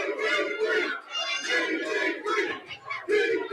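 A big crowd at a boxing weigh-in event roars and chants in surging waves, loud and close, with voices rising and falling in rhythmic bursts.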